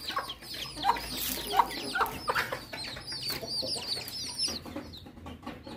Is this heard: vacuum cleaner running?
no